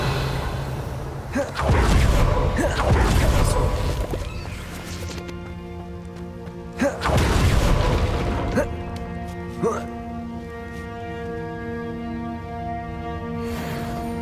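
The Confringo blasting spell in Hogwarts Legacy goes off twice as loud, booming explosive bursts with crackling tails. Sustained musical tones ring underneath, with a smaller crack near the end.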